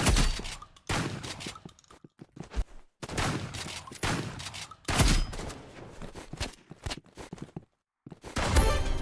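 Roblox video game gunfire comes in repeated bursts of rapid shots separated by brief silent gaps, close and punchy, with faint footsteps between volleys.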